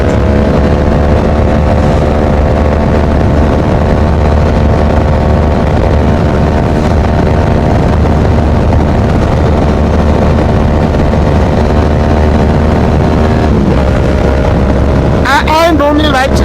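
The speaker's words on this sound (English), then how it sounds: "I'm on low revs. The bike doesn't want to move, so I have to downshift" A 2014 Yamaha R1 motorcycle engine labors at low revs with a steady, droning hum beneath continuous talking from the rider, and a brief shift in pitch near the end.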